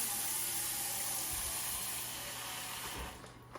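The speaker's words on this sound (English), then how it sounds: "I'm gonna grab this bread pan, stick it in the sink, get a little dish soap, a little water" Tap water runs steadily into a bread pan in a kitchen sink, a continuous close hiss and splash that trails off near the end.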